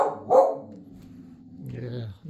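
A puppy lets out one short bark early on, followed by softer whimpering and whining sounds, fairly close by.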